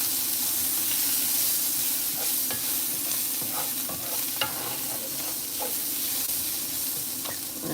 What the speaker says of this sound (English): I'm going to add a little bit more oil and then add my cabbage. And let these onions continue to get jammy and delicious.